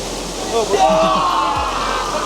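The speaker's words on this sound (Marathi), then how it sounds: "एकदम मोठा असा वडा लागलेला आहे फुल पाणी" A large monsoon stream in full flow on the Panhala to Pavankhind trek gives a steady, loud, broadband rush of water, while someone talks over it.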